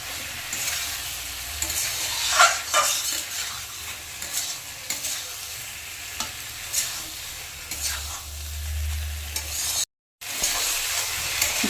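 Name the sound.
ridge gourd and potato being sautéed with spices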